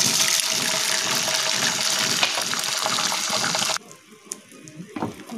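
Beaten egg hits hot oil for an omelette, a loud continuous hissing sizzle that cuts off abruptly near the end, leaving quiet kitchen clatter and faint taps.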